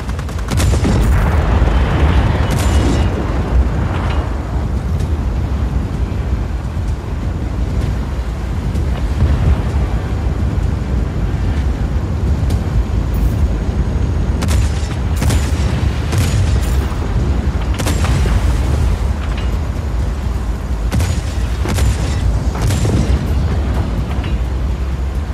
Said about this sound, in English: The cannon on this thing isn't bad.